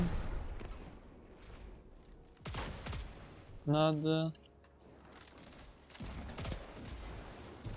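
An exotic pulse rifle in Destiny 2 fires in a few quick bursts, with separate sharp volleys spaced a second or two apart and quiet game sounds and a player's voice between them.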